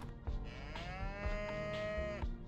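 A cow moos in the video game Toilet in Wonderland, one long drawn-out low moo over soft game background sounds.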